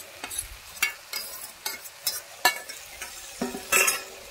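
Fried hilsa fish head, crumbled, stirred into a cabbage curry in a pan: a series of distinct scraping stirs at a steady rhythm with a light sizzle beneath, close and fairly quiet, no talking.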